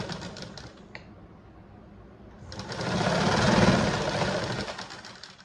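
Electric sewing machine stitching a press seam along a garment neckline, a brief tick at first, then a steady, close whirring run that swells louder and carries on to the end.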